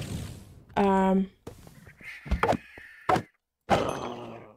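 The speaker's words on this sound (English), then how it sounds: "There's just a bird." A single loud, harsh bird caw in the Minecraft Vault Hunters game stands out near the start, followed by scattered thuds and game effects with brief spoken voice.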